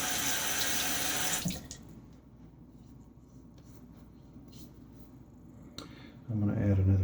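A tap runs loudly into a sink for about a second and a half while shaving lather is made in a Williams mug. Quiet handling and mixing noises follow, and the tap gushes again near the end.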